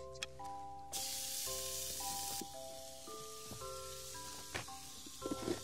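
Taco meat sizzles on a grill outdoors on a mountain, a broad hissing spray with a steady crackle, loud near, with tonal beeping or chirping lines running over it and a few sharp clicks near the end.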